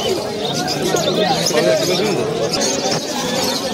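Pigeons at an outdoor pigeon market in Uluberia, near Kolkata, give soft, continuous cooing and murmuring under steady crowd chatter and market bustle.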